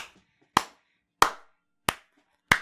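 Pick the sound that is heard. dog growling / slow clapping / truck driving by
slow clapping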